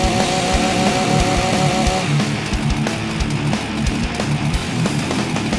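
Chainsaw revving in the zombie video game The Walking Zombie 2: a loud, steady buzzing engine drone, strongly pitched at first and then rougher and more broadband, with repeated thumping hits underneath.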